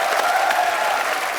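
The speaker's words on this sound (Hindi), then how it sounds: "जोरदार तालियां हो जाए।" A studio audience at a TV comedy show gives sustained, steady applause, dense clapping filling the whole moment without a break.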